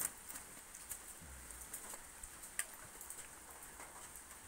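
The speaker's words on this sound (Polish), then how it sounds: "Bo deszcz pada." Soft autumn rain patters steadily outdoors, faint and diffuse, with occasional nearby drips and a distant bird or two.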